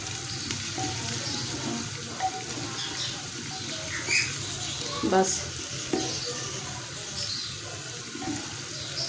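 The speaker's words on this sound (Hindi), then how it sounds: "ये इसको भी ऐसे भूनना है, 2 मिनट बस भूनना है अच्छी तरह, क्योंकि फुल गर्म है घी" Spices with garlic and ginger frying in very hot ghee, a steady sizzle with stirring scrapes and a few clinks, close by, while someone speaks briefly over it.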